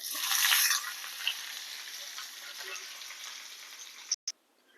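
Curry leaves hit hot oil with a burst of loud sizzling that settles into a steady, gentler crackle and ends in a few sharp clicks, for a Kerala okra pachadi with the heat switched off.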